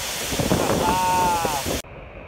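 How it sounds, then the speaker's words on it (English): Strong, gusty wind roars and buffets close by at an Icelandic waterfall in freezing cold, with brief voices under it, then the blast suddenly drops to a quieter rush. "These winds are nuts."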